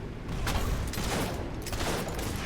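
Gunfire from the video game Fable III, a dense, continuous barrage of overlapping shots and booms at steady loudness throughout, with no voices.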